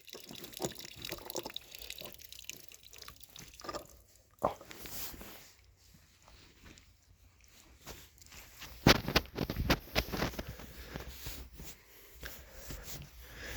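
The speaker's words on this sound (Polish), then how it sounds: "teraz odtajało, bo jest na plusie i woda się wylewa z beczki." Water running and dripping out of a barrel on a farmstead after a thaw, a steady trickle with splashy drips, louder bursts near the end, no talking.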